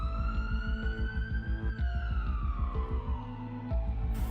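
A wailing emergency siren, steady and fairly close, sweeping slowly up then gliding down in pitch over a throbbing low engine-like pulse, ending with a sudden burst.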